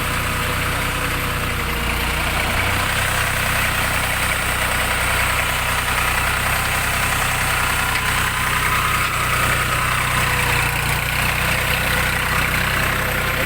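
A Jinma mini tractor engine idles steadily and close by, with a constant low chugging rumble and vibration.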